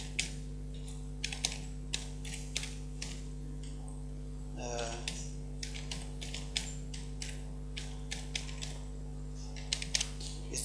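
Password typed on a computer keyboard, scattered close clicks in short bursts over a steady low electrical hum, with a brief rustle midway.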